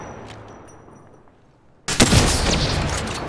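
Gunfire in Apex Legends: after a quiet stretch, a sudden loud burst of shots erupts and continues as sustained rapid firing to the end.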